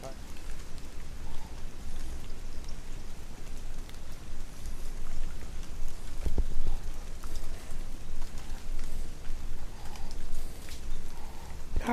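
Steady rain falls at a campground, a soft, even patter and hiss on surfaces that continues throughout, with faint background sounds beneath it.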